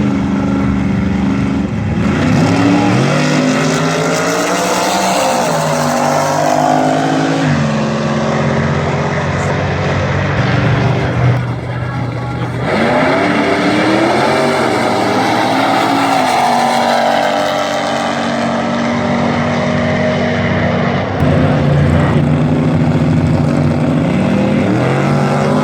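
Drag race cars, including one called Shark Attack, roar down a summer race track, loud sustained engine howls rising and falling through gear changes, one pass following another with crowd and track noise beneath.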